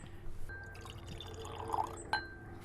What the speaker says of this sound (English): If you take that cork out and pour a couple of glasses, if you would.